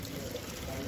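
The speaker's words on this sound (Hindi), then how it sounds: "अब आपको दिखाता हूँ नीचे कैसे डालना है पानी।" Water pours steadily while a Honda Activa 125 BS6 scooter is being washed, a faint continuous splash and trickle that lasts the whole moment.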